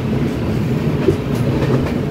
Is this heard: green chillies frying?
no